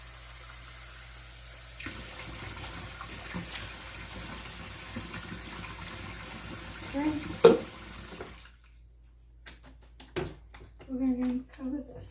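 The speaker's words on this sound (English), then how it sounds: "Put more water with the shells because they should be submerged." Water pours into a pot of pasta shells for stuffed shells, a steady running stream under household noise that stops abruptly around the eighth second, followed by a few clinks and handling sounds.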